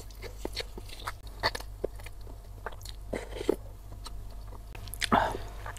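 Someone eating jumbo bakso meatballs (beef tendon and rib varieties) dressed with sambal and sweet soy sauce, with close, repeated chewing, biting and crunching sounds spread through the clip and a louder burst near the end.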